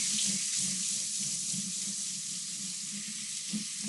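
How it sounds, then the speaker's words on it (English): Cold water pours steadily into a container, a continuous hissing splash held at an even level throughout with no voices. "So I'm going to put some cold water in here"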